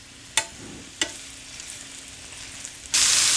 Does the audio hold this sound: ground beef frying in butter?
yes